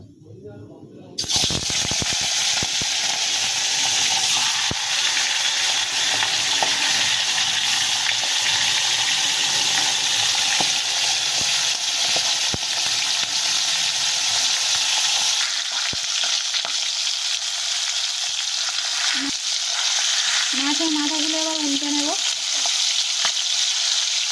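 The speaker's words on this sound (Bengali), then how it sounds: "তেলগুলো গরম হয়ে গেছে এবার আমরা মাছ আর মাছের মাথাগুলো দিয়ে দেবো" Fish pieces and fish heads hit hot oil with a sudden loud burst of sizzling that roars steadily and close, calming slightly later, with a brief voice near the end.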